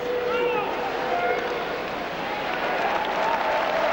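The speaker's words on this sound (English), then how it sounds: "Crowd's really in it tonight." A packed arena crowd cheers and applauds at the 2003 Colonial Cup Finals hockey game between the Komets and Mallards, a steady, dense roar holding for the whole stretch with indistinct voices mixed in.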